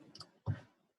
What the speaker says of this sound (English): I'm gonna click on the color that I want.